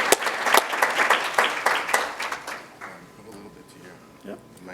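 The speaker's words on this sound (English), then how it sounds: "So one more round of applause" A final round of applause at a Global Accessibility Awareness Day event, dense and strong at first, then thinning into scattered claps that fade out after a few seconds, with faint murmuring underneath.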